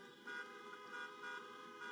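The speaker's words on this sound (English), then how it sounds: "Honk if you want America to lead again." Car horns honk at an Iowa drive-in rally, a faint, distant scattering of toots that pulse in several short bursts over a low background.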